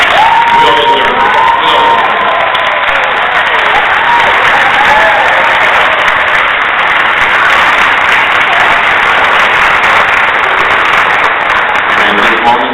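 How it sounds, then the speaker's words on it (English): An audience at a public school board of education meeting gives students a loud, sustained round of applause, with dense clapping, cheers and whoops filling the room and voices mixed in. "Now I'd like to please stand and give our students a round of applause."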